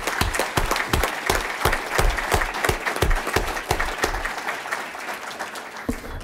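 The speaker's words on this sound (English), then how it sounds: "So we're going to give you all a round of applause." An audience at a county council meeting gives a round of applause, a dense, lively burst of many people clapping close by that gradually thins out toward the end.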